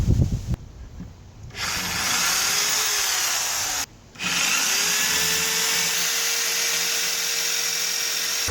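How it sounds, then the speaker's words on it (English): Power screw gun driving Tapcon concrete screws while building a granite grill side table, a loud sustained whirring drive that runs in two long bursts separated by a short pause, with a rising pitch in the motor. "I ran it most of the way in with the screw gun"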